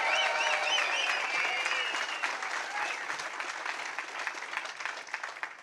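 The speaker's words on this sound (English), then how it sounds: "So please give them another round of applause too" A crowd at a Pennsylvania Senate get-out-the-vote rally breaks into loud applause, with whistles and cheers riding over the clapping early on before the sound thins and tapers off.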